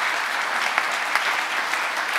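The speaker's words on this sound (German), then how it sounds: "klatschen Sie gerne" A crowd at an innovation award ceremony applauds briefly, with dense, even clapping from many hands that holds steady throughout.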